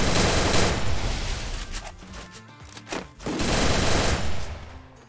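Bursts of automatic gunfire in the video game Garena Free Fire, a 1 vs 1 fight on the Purgatory map, loud rapid shots with a brief gap midway before firing resumes.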